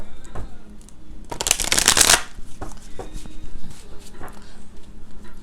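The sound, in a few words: shuffling tarot cards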